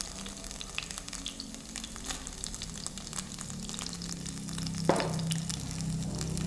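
Garlic sautés in oil for a spicy tuna pasta, a soft steady sizzle with small crackles and a brief clatter partway through, nearby and fairly quiet.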